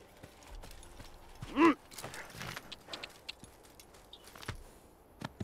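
Horse hooves clip-clop at a walk in the Assassin's Creed video game, soft and fairly distant, with one louder burst partway through and faint background game sounds.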